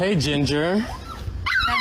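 A pet dog named Ginger whimpers and yips close by in short, high, wavering cries while a person speaks to her.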